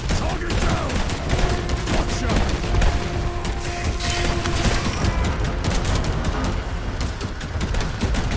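Artillery fire in the video game Red Solstice 2, a dense continuous barrage of booms and crackling explosions filling the whole stretch, loud and steady with no gaps.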